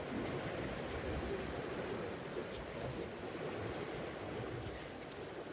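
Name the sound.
sea waves washing around rocks on Anglesey shore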